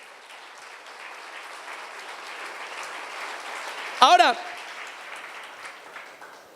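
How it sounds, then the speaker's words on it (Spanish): A church congregation applauds in a sustained, moderate wash of clapping, with a sudden loud vocal burst partway through and a speaker talking over it. "¿Qué tal si le das un aplauso fuerte al Señor por esta palabra?"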